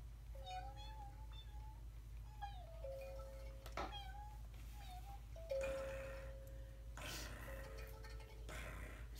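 A puppeteer's voice imitates a kitten in a children's puppet show, several high, wavering meows spread across the span, soft and close over a low steady hum.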